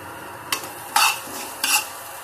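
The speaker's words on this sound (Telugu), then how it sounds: "దోరగా వేయించాలి ఫ్రెండ్స్." Coriander seeds, cumin and garlic are roasted in a pan on the stove, with three distinct scraping stirs over a soft background sizzle.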